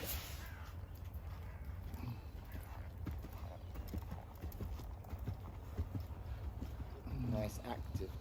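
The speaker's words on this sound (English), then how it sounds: "Nice active canter." Horse cantering through a dressage test, a steady clip-clop of hoofbeats on the arena surface under ongoing background noise, with a judge's voice speaking briefly near the end.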